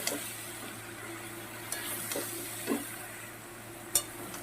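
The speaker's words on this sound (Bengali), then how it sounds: "এবার লাউটা দিয়ে ভালো করে আমি কষিয়ে নেব" Bottle gourd sautéed in a pan, giving a quiet, steady sizzle with a few sparse spatula scrapes and clinks, close by with no talking.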